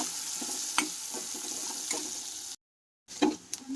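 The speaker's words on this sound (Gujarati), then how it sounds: "કાંદા નાખી આપણે થોડીક વાર સાતળવા દેવાના છે" Chopped onions sauté in a pan while cooking a Gujarati dudhi kofta curry, giving a soft, steady sizzle with occasional stirring clinks and a brief gap of silence partway through.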